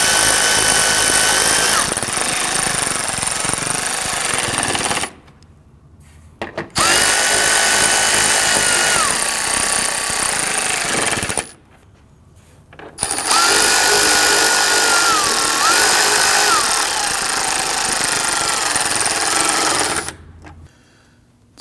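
Power tool driving grille shutter fasteners on a 2010-2019 Ford Taurus, three loud close whirring runs of several seconds each, separated by short silent pauses.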